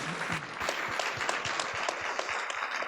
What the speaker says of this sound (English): Round of applause for Desmond